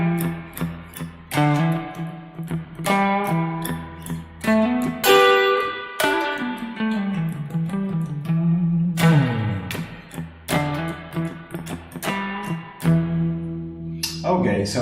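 Electric guitar notes and chords ringing out with a spacious reverb tail, played in short phrases with pauses between them.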